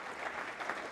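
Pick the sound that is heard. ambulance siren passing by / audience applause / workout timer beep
audience applause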